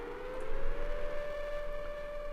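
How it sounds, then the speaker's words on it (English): Rising, steady wail of civil-defense sirens inside the video game We Know the Devil, a sustained tone gliding slightly upward and holding over a dim static bed, moderately loud with no talking. "The sirens are still going a little."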